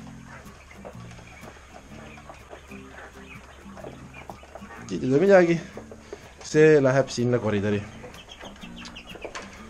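Chickens and quail clucking in a coop pen: soft, scattered clucks and a few louder, drawn-out squawks heard alongside someone talking close by.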